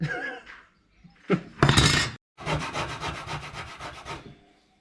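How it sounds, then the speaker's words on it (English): A Scotch-Brite pad rubs over a worn stock chrome grille from a 1951 Chevy, making harsh scrubbing strokes: a short burst, then a sustained rapid back-and-forth scouring that fades out. "giving this a bit of a Scotch-Brite just to demonstrate how little chrome there is actually left on it"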